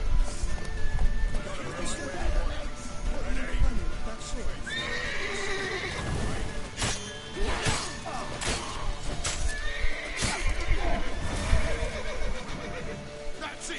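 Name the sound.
horse whinnying and galloping in the video game Witcher 3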